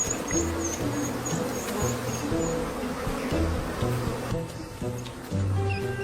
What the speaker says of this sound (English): African honeybees sting 10 times more frequently than their European cousins.